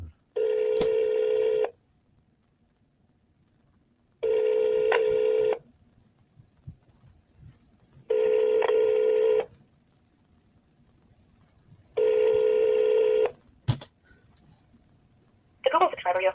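A telephone call rings out unanswered: four evenly spaced ringback tones, each about a second and a half long, repeat every four seconds over near silence, followed by a sharp click and a brief tone at the end.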